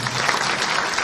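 An audience claps for farmer leaders at a protest rally in Nagpur, steady dense applause from many hands filling the space without a break.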